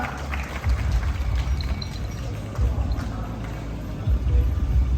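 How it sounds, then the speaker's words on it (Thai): Outdoor crowd applause at a male buffalo contest in Kalasin, a steady, distant patter of clapping over a heavy low rumble of wind and crowd noise. "ขอเสียงปรบมือด้วยครับ"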